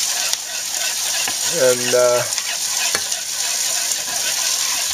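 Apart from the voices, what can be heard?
vegetables sizzling and being stirred in a pan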